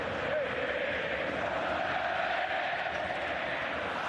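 A stadium crowd at an Argentina vs Haiti football friendly in 2018 sends up a steady, broad roar of cheering that carries on unbroken throughout, with commentary talk faintly mixed in.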